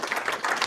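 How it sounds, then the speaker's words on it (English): Brief round of applause from a small audience at a business discussion event, a dense patter of clapping hands lasting under a second, moderately close and unaccompanied by talk. "I thought I deserved a round of applause, Phil, to be fair."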